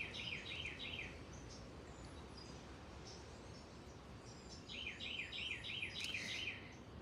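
Songbird chirping in short rapid trilled bursts, one near the start and another near the end, fairly clear over a steady quiet background hiss, with no talking.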